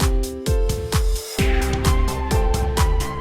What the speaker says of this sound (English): We've made our sweep sound